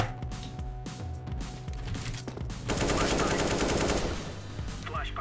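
Gunfire in the video game CS:GO: scattered single shots at first, then a loud, dense burst of rapid automatic fire lasting over a second, close and punchy, followed by a few clicks.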